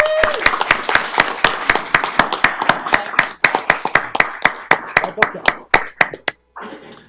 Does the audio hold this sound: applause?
yes